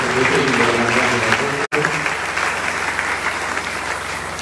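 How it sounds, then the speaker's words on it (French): A church congregation breaks into loud, sustained applause filling the hall, with a momentary cut partway through and voices mixed into the clapping. "Est-ce qu'on peut acclamer pour la parole de Dieu?"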